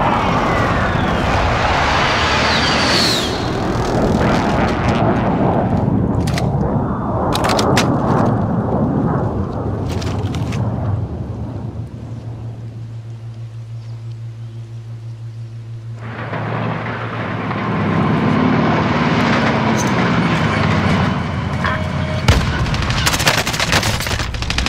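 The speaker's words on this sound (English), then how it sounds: "Precision airstrike, take cover!" Precision airstrike in a battle royale video game, heavy booming explosions and rumbling blasts with bursts of gunfire, loud and dense throughout, easing briefly to a low drone midway before the barrage returns.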